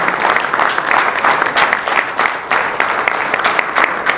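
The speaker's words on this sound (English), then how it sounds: "Huge round of applause for the gentleman coming up." Loud, dense audience applause at a corporate stage show, continuous claps filling the whole stretch with steady intensity and crowd noise.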